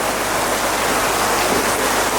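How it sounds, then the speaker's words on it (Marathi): Heavy rain pours steadily during an outdoor political rally, a dense, even hiss filling the whole stretch, loud and close with no voices audible over it. "आपण या पावसाला घाबरण्याची गरज नाही"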